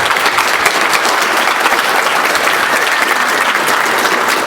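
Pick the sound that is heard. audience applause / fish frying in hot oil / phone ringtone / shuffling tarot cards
audience applause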